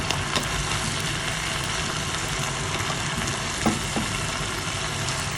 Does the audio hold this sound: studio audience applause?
no